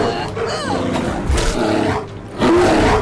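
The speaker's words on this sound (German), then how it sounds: "Nein, ein Bär!" A bear roars in the video game Skyrim, a loud, growling bellow rising over game noise and clashes, with a second burst near the end.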